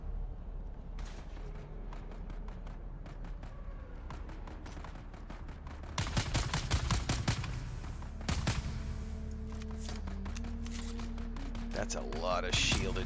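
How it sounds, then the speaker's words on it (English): Gunfire in Dune: Awakening crackles as rapid bursts of shots at middle distance, growing denser partway through, with someone talking over it. "They're shooting at somebody."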